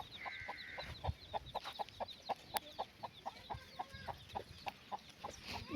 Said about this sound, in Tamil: இதுவும் எங்கள் வீட்டு கோழி தான்.